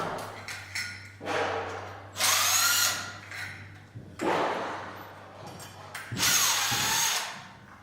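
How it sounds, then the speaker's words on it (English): A cordless power drill backs screws out of a ceiling fan light kit in several short close whirring bursts, separated by brief pauses and small clicks of handling. "Again, I use my drill"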